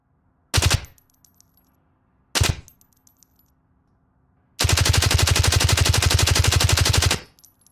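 Video game autofire gunshots ring out: two single loud shots are followed by a sustained rapid burst of about two and a half seconds, and small metallic tinkles of bullet casings hitting the floor trail after each shot.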